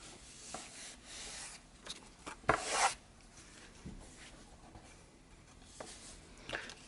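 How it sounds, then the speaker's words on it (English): A glued pocket made from a book page is pressed and rubbed down by hand, making quiet papery rubbing strokes with a brief, louder scrape partway through. "And now we just need to glue this down."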